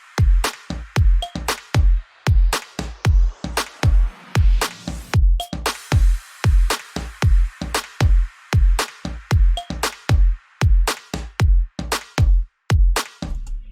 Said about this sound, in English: You should keep the drop drums really simple, something like this.